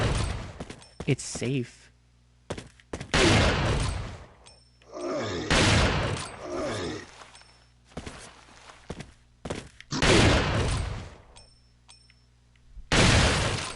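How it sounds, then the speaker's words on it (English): Shotgun blasts from Resident Evil 4 on Professional Mode, several loud broadband bursts spaced irregularly through the stretch, with someone talking between and over them. "I don't want to just keep shooting you with my shotgun"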